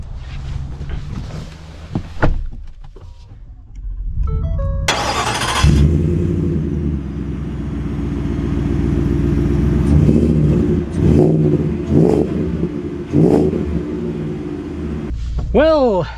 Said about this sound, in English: Sorry if you guys can't hear me because of the super loud truck.